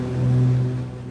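The engines of a Blackbox Trislander in MS FS2020 give a steady, loud droning hum heard from outside the aircraft, swelling slightly in the middle of the short stretch before easing off.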